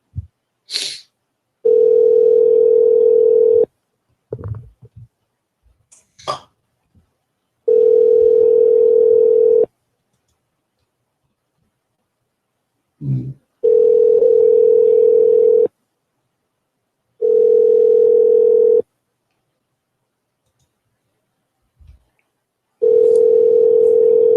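Telephone ringback tone on an outgoing call, loud steady beeps of about two seconds each repeating at regular intervals, with short clicks and handling noises between them.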